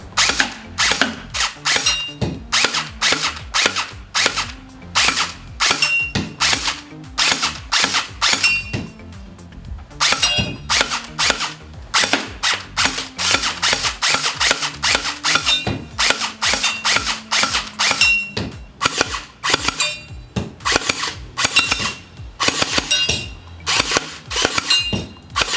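HK 416 automatic gel ball (Orbeez) blaster firing in rapid full-auto bursts, a dense mechanical clatter of clicking shots with brief pauses between strings, loud and close with no talking.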